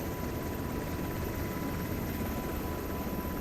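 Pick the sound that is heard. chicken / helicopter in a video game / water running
helicopter in a video game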